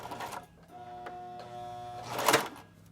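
A sewing machine stitches fabric for a face mask, including a back stitch, with short mechanical whirring bursts separated by brief pauses and a louder rattling run near the end.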